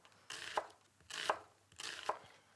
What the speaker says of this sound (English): I've got about 1/2 of a Spanish onion, and we're just going to cut it as thin as possible